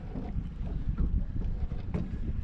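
Strong wind buffets the microphone on open water during a fishing trip off Florida, a loud rumbling roar with gusty surges and faint water slaps against the boat, with no talk.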